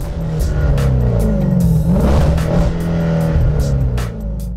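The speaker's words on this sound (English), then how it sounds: "this muffler sounds amazing." A 2012 Hyundai Genesis R Spec with a Magnaflow cat-back exhaust revs hard. A deep, loud engine note rises and falls close by, with no voices.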